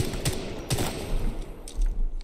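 R-301 rifle gunfire in Titanfall 2, a few close sharp shots spaced irregularly over steady game background noise, no talk.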